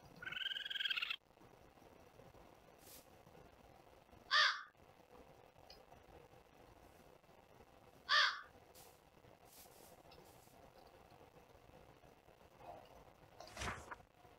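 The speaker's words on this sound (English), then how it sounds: "I'm pretty sure I did find a crow somewhere here." A crow in modded Minecraft caws in two short, separate bursts, fairly near, over a low ambient game background, with a few fainter calls toward the end.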